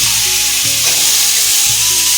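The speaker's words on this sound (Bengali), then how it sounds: "পোস্ত দিয়ে এই যে আলুগুলো ভাজা হচ্ছে" Potatoes with poppy seed frying in hot oil, a dense steady sizzle with stirring scrapes, loud and close throughout with a low humming tone underneath.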